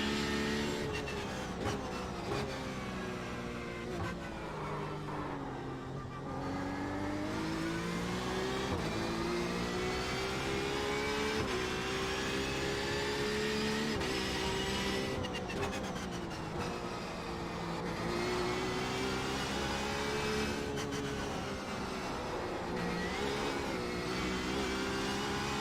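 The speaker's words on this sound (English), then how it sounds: "Hear the engine rev a little bit there where it felt like basically the wheels weren't engaged." Porsche 911 RSR race car engine in the iRacing simulator, a continuous loud high-pitched engine note rising and falling through shifts and revs over a long stretch, with no talk.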